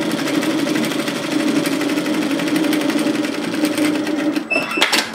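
Domestic sewing machine running a second row of stitching on a cardigan pocket to mimic a cover seam, a steady rapid mechanical whir and tapping close up, ending with a few clicks and stops, no talking.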